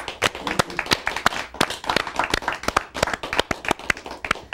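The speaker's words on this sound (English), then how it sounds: "big round of applause for Bollywood news" A television studio audience on India Talks applauds in brisk, uneven clapping, individual hand claps standing out distinctly in a lively, moderately loud patter.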